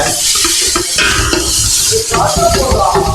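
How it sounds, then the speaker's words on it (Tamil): Meat frying in a pan while being stirred, with continuous loud sizzling and clattering scrapes of a utensil against the pan, close and busy throughout. "இறைச்சி ஃப்ரை பண்ணதுக்கு வந்து நல்லா கிண்டி கல்யாண்."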